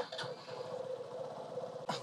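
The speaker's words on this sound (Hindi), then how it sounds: "जब मैं ये मोटरसाइकिल स्टार्ट करता हूँ" A Hero Passion X-Tec motorcycle engine turns over and settles into a quiet, steady whirring idle, with brief sharp bursts at the start and end, heard close but faint.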